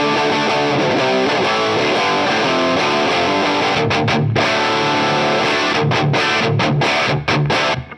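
Les Paul electric guitar playing a heavily distorted, high-gain rock riff, loud and dense throughout, with a few short choked gaps where the chords are muted before ringing on again.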